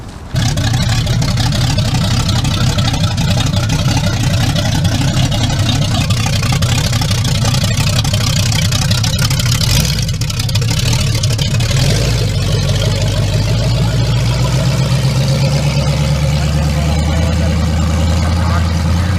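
A 1965 Chevy C10 truck with a big block engine runs loud and close with a continuous deep rumble that stays steady throughout while people talk over it.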